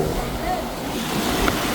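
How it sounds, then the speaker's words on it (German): Small waves break on a beach at Pattaya, Thailand, a continuous close wash of surf mixed with gusty wind buffeting. "Guckt euch das an, wie die kleinen Wellen am Strand brechen"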